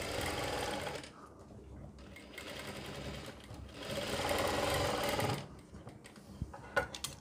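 Sewing machine stitching the neckline of a garment, a steady fast whirring and clatter that runs almost the whole time, briefly easing and then picking up again, close and fairly quiet.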